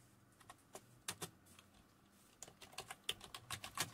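Keys clatter on a computer keyboard with quiet, irregular taps: sparse at first, then a faster burst of keystrokes toward the end, close and faint.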